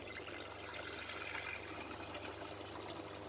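Water runs steadily into a cooking pot set to boil for blanching pork in a Hong Kong kitchen, a faint, continuous rushing with no voices.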